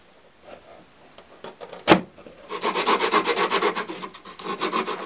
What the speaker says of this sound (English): and then I'm going to sand it off.